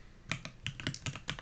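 A computer keyboard is typed on at close range while someone enters C++ code, giving about seven distinct clicky keystrokes in an uneven rhythm with no voice.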